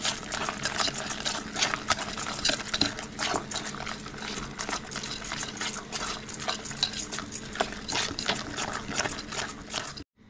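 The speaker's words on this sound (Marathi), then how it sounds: "आता हे सर्व मिक्स करून घ्यायचं आपल्याला।" Spoon scraping and clinking briskly in a bowl as coriander powder, turmeric, chili and garam masala are mixed together, a dense, rapid run of close scrapes and taps.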